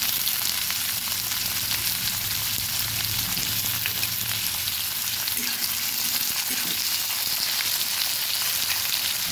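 Potatoes frying in a pan of oil for a vegetarian ridge gourd and poppy seed curry, a steady loud sizzle running throughout with faint stirring and no talk.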